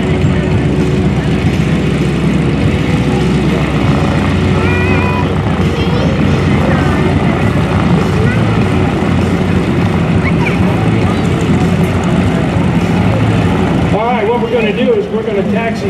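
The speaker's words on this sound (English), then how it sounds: "Taxi Chris Thomas back into position while our lucky raffle winner gets in the airplane" Propeller airplane taxiing back into position at the 2024 Leesburg Executive Airport airshow, a steady loud engine drone that runs throughout, with an announcer talking over it on a public address.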